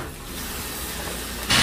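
A constant, loud sizzle of meat searing in a hot pan with olive oil, a dense hiss that flares sharply louder just before the end.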